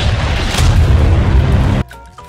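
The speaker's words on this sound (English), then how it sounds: "Glad to see you pipe bomb yourself." A pipe bomb explodes in the video game Garry's Mod as one loud, close boom that rumbles for nearly two seconds and then cuts off abruptly into quiet.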